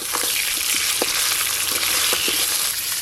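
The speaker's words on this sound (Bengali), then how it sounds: "সর্ষের তেলে আলুগুলো ভাজা করছি" Potato pieces fry in hot mustard oil, giving a dense, steady sizzle with scattered pops and crackles and occasional stirring scrapes, close and continuous.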